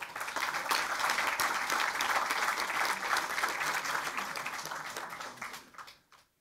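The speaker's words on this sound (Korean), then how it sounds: "우리 이해찬 대표님께 큰 박수로 응원해 주십시오." Sustained audience applause at a Democratic Party floor leader election speech event, loud and dense throughout before fading out near the end.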